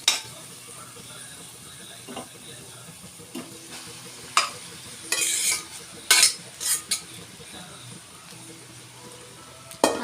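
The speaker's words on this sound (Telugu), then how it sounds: "అన్నం వేసి బాగా కలుపుకోవాలి" Rice stirred into vegetable fried rice in a frying pan, with a steady low sizzle under scattered sharp scrapes and clinks of a spoon against the pan, several louder bursts mid-way.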